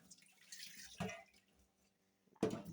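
Cut potatoes being rinsed under water, with sparse splashes and drips at close range: a soft wash at the start, a sharper splash near one second, quiet trickles, then another burst of water at the end.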